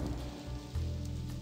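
Rain falls as an ambient sound effect in The Blackwell Convergence adventure game, a steady, quiet hiss with no voices over it.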